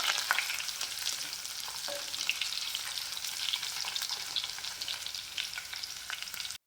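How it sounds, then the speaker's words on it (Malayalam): Crushed garlic and ginger sautéing in hot oil with fenugreek, a dense steady sizzle heard up close with faint stirring throughout, ending abruptly. "ഒരു 2 അല്ലി വെളുത്തുള്ളിയും 1 കഷ്ണം ഇഞ്ചിയും കൂടി ചതച്ച് വെച്ചിട്ട് നന്നായിട്ട് വഴറ്റിയെടുക്കാം"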